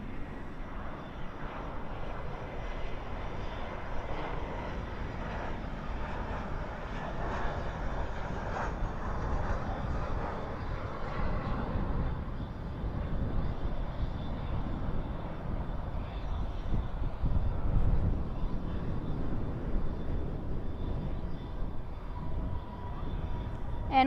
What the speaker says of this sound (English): And we have an arrival, American Airlines flight 2858 coming in from St. Louis, a Airbus A319.